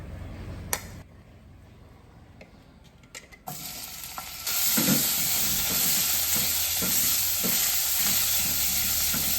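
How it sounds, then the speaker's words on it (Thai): Salted fish is stir-fried in a pan. After a few light clinks, a loud, steady sizzle begins, broken by regular scraping strokes of a spatula tossing the fish. "นี่เราก็จะเอาปลาคิมลงไปผัด"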